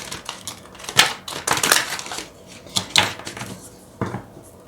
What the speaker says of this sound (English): I'm trying to shuffle on top of these cards